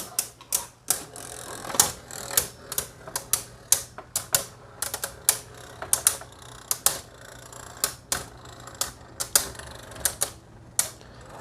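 Beyblade spinning tops, including Mirage Fafnir, launched and clashing in a plastic stadium: rapid sharp clacks and ticks in irregular bursts, close and crisp, with no talk.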